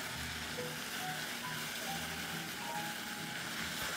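Coarse and fine chili powder frying in hot oil for a Korean soft tofu stew, a steady close sizzle and crackle with no voices.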